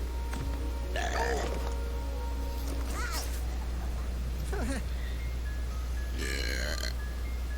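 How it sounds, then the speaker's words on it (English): A burp gag in the video game Spyro: Year of the Dragon (Reignited Trilogy), with several loud, drawn-out belches spread across the clip over a steady low game hum. "And a burp joke."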